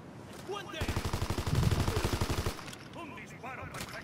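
A rapid burst of automatic gunfire in a World War II sniper video game rattles for about two seconds, with shouted voices before and after over a low, steady background rumble.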